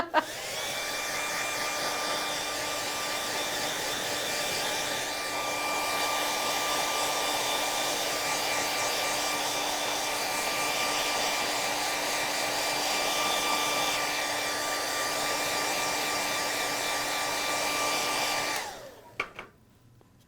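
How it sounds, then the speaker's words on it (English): A hair dryer blowing to dry paint during a craft session, a steady loud whine with a constant high-pitched tone that runs alone for about eighteen seconds, then clicks off. "I feel like we need Jeopardy music when I'm using a hair dryer."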